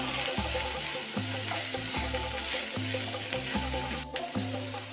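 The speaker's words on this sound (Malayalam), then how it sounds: "ഇനി നമുക്ക് നന്നായിട്ട് പിന്നെ എണ്ണയ്ക്കകത്തിട്ടൊന്ന് നല്ലതായിട്ടൊന്ന് ഇളക്കിയെടുക്കാം" Brinjal pieces being stirred in hot oil in a pan, a moderate sizzle broken by regular scraping strokes of a spoon at a steady rhythm, close and without talk.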